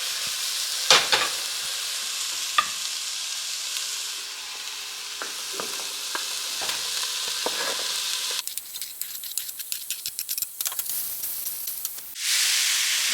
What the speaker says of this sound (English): So we're just gonna saute the carrots and the zucchini for a few minutes.